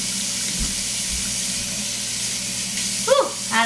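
A kitchen tap runs with a steady, fairly loud hissing rush of water, with a short squeaky tone near the end as the flow is adjusted.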